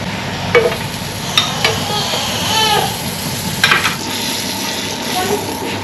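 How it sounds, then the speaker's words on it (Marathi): Bread warming in butter on a hot griddle (tava) while a tofu sandwich is being made, giving a steady soft sizzle and frying hiss throughout, with a few brief clinks and scrapes of stirring over it. "तिथं तवा गरम होतोय, ते बटर घेतले आणि ब्रेड थोडंसं गरम करू"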